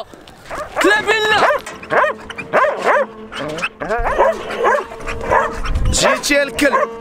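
A dog barks and yips repeatedly, loud and close, in uneven bursts mixed with whimpering, while someone talks over it.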